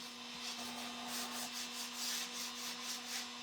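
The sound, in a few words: sanding a Dollar Tree mini lantern to reveal copper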